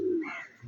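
Umbrella-style fancy pigeons on a rooftop give a short, close cooing call, a low throaty note followed by a softer trailing coo, heard on its own without talk.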